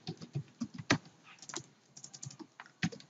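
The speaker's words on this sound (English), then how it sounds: "And here I type" Typing on a computer keyboard while writing HTML form code: quiet, irregular clusters of close key clicks and taps with brief pauses between bursts, no speech.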